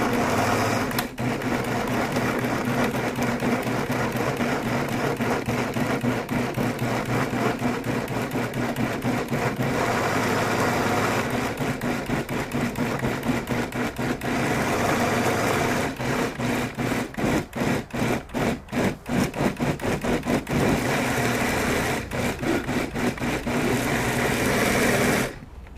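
A blender grinds collected fruit for a soy-sauce seasoning in a cooking class, a loud continuous whirring roar that later breaks into rapid pulsing bursts before stopping, with no talking.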